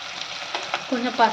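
Ginger garlic paste with a pinch of turmeric frying in a pan, a soft continuous sizzle with light stirring scrapes, close and moderate in level, no talking.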